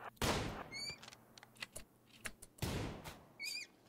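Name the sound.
gunfire from the video game Rimworld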